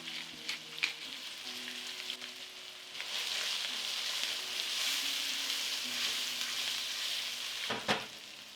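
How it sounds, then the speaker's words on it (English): Soft, steady sizzling of onions browning in hot vegetable oil in a pan, with occasional light clinks and stirring sounds, quiet and close, no voices. "Into this preheating pan, add about 2 tablespoons vegetable oil. Start browning the onions."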